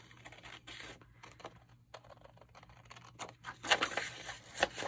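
Scissors cutting a paper envelope flap along a pencil line: steady close snipping and rustling crinkle of paper, busier and louder toward the end, with no voice.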